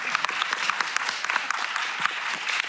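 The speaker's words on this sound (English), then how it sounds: "thanks for your applause" A conference audience applauds a speaker during a panel discussion on democracies under pressure, with dense, fairly distant clapping and scattered sharper claps throughout.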